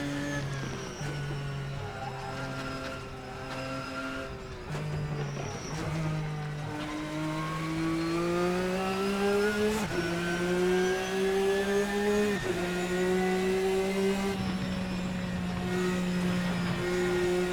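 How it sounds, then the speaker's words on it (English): A race car accelerates hard at full throttle on a track, its engine note climbing in rising harmonic sweeps with brief dips at gear changes, loud, close and continuous with no talk. "step on it, give it full beans, and the car is surprisingly responsive"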